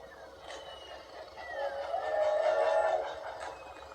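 In the Mario Kart 8 video game, a train passes by: a rumble that slowly swells to a peak and then fades, with a faint whistle-like tone above it and no talking.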